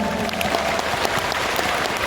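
Steady applause from a crowd fills the whole stretch, dense and continuous clapping with no pauses.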